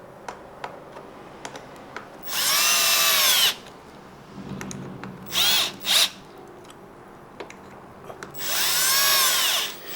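A cordless power drill drives screws into an ergonomic handle clamped on a string trimmer shaft, with three loud whirring bursts, one long, two short, then a long one, separated by quiet clicks and handling noise.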